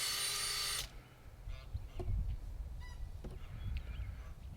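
A power drill fitted with an auger bit whirs loudly into the soil of a raised garden bed for a brief burst, then cuts off, leaving quiet outdoor ambience with light thumps.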